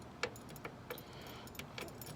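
Car keys for a 1989 Lincoln Town Car jangling close by in a few quick clinking shakes, fairly quiet, with no talk over them.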